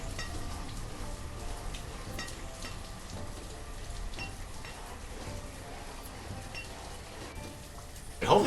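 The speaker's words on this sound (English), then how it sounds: "just downpour rain" Heavy downpour in the village-building game Banished, a steady faint hiss of rain falling continuously, with a brief louder burst at the very end.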